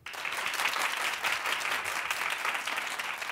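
An audience breaks into loud, sustained clapping, many hands together in a dense, even roar.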